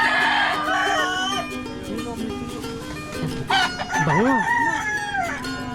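A rooster crows loudly and nearby in a rural barangay in Porac, Pampanga, its long drawn calls rising and falling over light background noise, with someone speaking briefly.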